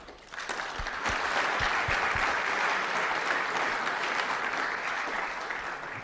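An audience gives a warm round of applause for aviation figure Wrenelle Stander, a loud, full burst of clapping that swells within the first second and holds steady, dense and sustained.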